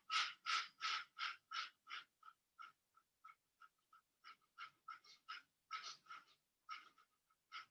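A slow exhale during a guided breathing exercise, heard close and quiet as a run of soft breathy pulses that start stronger and fade, then pick up again.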